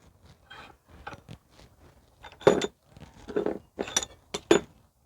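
A hand file scrapes burrs off the back side of a Toro Recycler lawnmower blade in short, irregular metallic strokes, close by, growing louder and denser toward the end.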